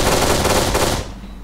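Rapid automatic gunfire in the video game Kane & Lynch 2: Dog Days, a loud dense burst of shots lasting about a second before cutting off abruptly.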